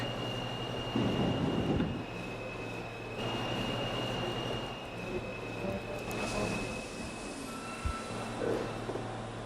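Subway train of the B and D lines standing at West Point station, the last stop, on a snowy day: steady low rumble and hum of the idling train with a constant high whine, faint clatter and shifting noise throughout.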